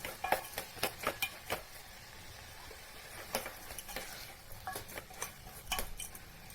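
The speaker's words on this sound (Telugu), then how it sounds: "ఇవన్నీ వేసుకొని బాగా కలుపుకోవాలి." A spoon scrapes and clinks in a pan as coriander and coconut powders are stirred into an egg curry, irregular sharp taps over a low sizzle, close by and without talk.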